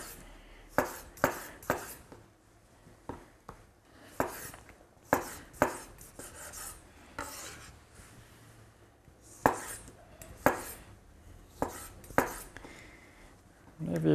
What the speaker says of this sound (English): Whenever you're chopping tomatoes,